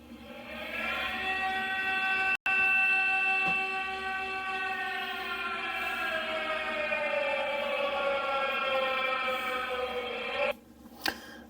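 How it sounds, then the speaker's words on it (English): Military air raid siren played back from an electronic music box, a steady stack of wailing harmonic tones that slowly glide downward, loud and continuous for about ten seconds before cutting off. "This is the military air raid siren."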